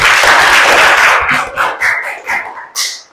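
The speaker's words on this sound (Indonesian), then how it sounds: "Tepuk tangan dulu untuk" Students in a school classroom break into a loud burst of clapping that quickly dies away into a few scattered, separate claps within three seconds.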